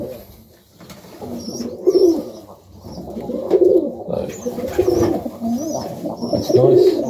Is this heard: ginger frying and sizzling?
no